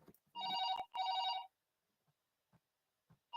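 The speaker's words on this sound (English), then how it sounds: "My number is ringing, my number." Telephone ringing in two long electronic bursts, the second following right after the first, loud and alone, then near silence with a few faint soft knocks.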